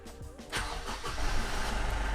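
A used car's engine cranks and catches in a warehouse, settling into a low idle, close by with no talking.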